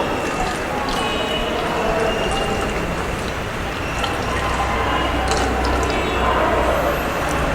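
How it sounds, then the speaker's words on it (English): Solution poured into a measuring cylinder during a silt content test on sand: a steady, close trickle and splash of liquid with faint drips over a constant background hiss. "Now I am pouring this for the first 100 ml."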